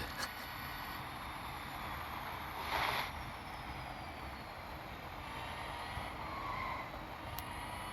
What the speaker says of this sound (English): it's the sound of the wind.